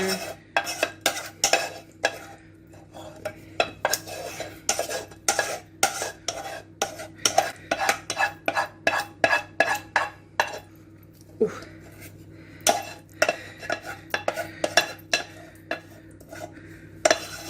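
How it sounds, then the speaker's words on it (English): Thick tomato sauce is spooned and scraped out over baked aubergine in a dish, with a steady run of close, sharp utensil clinks and taps against the container and a few soft wet plops in between. "So I'm just going to dump all of the tomato sauce on here."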